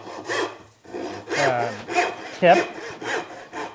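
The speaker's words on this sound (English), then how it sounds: "I'm using a crosscut saw, whereas a dovetail saw is a rip tooth." Crosscut hand saw cutting wood on a workbench shooting board: a steady series of about seven rasping strokes, close and clear, each a short back-and-forth bite, with a single brief spoken word among them.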